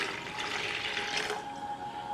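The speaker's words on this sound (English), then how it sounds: "I take my water in my measuring cup" Water pours steadily into a measuring cup for soap making, a continuous close splashing fill lasting a couple of seconds.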